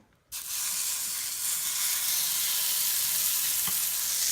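Steady sizzling of brisket burger patties frying in a small lidded pan, a loud continuous hiss that starts abruptly and holds without pause.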